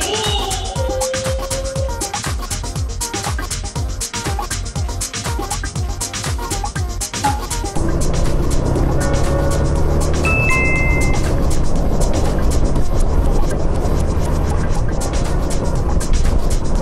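A Suzuki GN125H motorcycle riding along a windy mountain road, steady engine drone with heavy wind buffeting across the microphone that grows louder and rougher partway through as speed rises, continuous and close.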